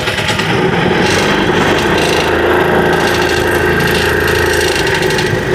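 A homemade mini train built from scrap materials starts up and runs, giving a loud, continuous engine-like drone with rattling mechanical noise and no pauses.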